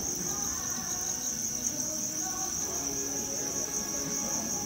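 Farmed egg-laying crickets in a breeding box on a cricket farm chirp nonstop, a dense, high, steady trill that stays close and continuous with no voices.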